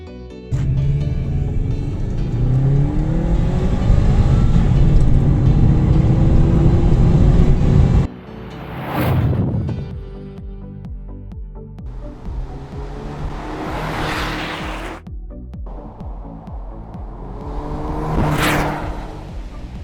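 A finished, restored Subaru WRX is out on a drive, its engine droning loudly and steadily before easing off, then several passing whooshes swell and fade as it accelerates and goes by.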